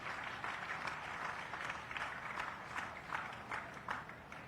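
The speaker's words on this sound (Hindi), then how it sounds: "एक बार जोरदार तालियों के माध्यम से हम माननीय का आभार व्यक्त करेंगे।" Crowd applause at an Independence Day tree-planting ceremony in India, a steady wash of many hands clapping at moderate distance, fairly faint and even throughout.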